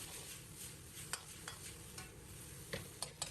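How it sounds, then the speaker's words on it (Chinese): Chives and dried tofu stir-fried over high heat in a wok, a steady sizzle with soft stirring scrapes and a few sharp spatula clicks against the pan, close and continuous with no talking. "大火翻炒均匀，使韭菜、香干的味道融合在一起。"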